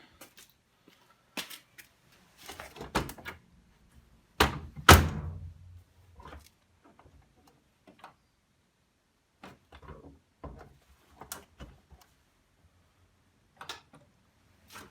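Several sharp thunks and knocks ring out, one louder slam of a washing machine door shutting near the middle, with quiet handling noises around it; the door lock light is faulty.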